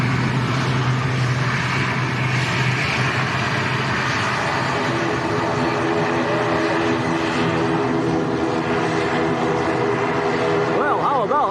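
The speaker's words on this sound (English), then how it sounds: "Yeah, afterburners on as well. Well, a touch and go and a fly past." Eurofighter Typhoon jet with afterburners lit doing a touch and go and fly-past at Lanzarote Arrecife Airport, a loud sustained roar with shifting tones as it passes, while people talk over it.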